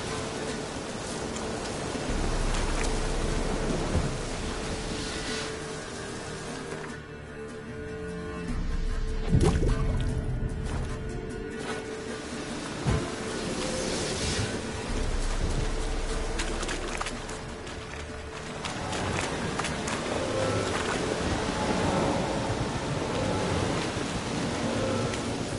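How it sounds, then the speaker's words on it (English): A storm in The Witcher 3 video game brings steady, loud rain hissing over a wide area, with low rolls of thunder rumbling beneath it throughout. "The storm, damn it."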